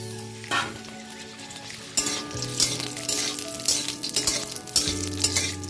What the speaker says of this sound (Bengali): এবার আমি কুলগুলো দিয়ে দেব এই ফোড়নের মধ্যেই